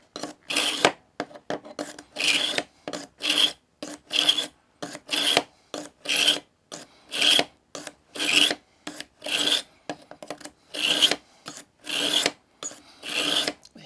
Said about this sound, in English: Hear how the grinding sound is going away a little bit at a time.